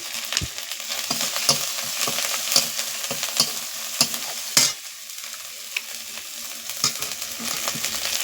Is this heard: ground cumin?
yes